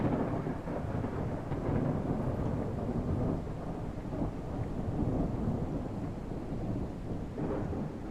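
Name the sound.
thunder and lightning strikes in video game Airport Renovator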